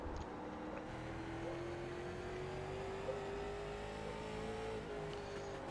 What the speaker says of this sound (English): Take a listen to her throttle rhythm.